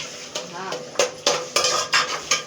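Rhythmic spoon scraping and clanking against a pan over a light sizzle as a tomato curry is tempered, close and fairly loud, repeating roughly every half second.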